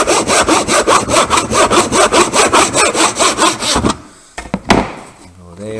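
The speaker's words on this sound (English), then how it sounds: "we can go the bench hook and tenon saw at an angle" A tenon saw cuts the corners off a wooden trophy piece held on a bench hook, with steady rhythmic back-and-forth strokes up close for about four seconds, then a few handling knocks and bumps.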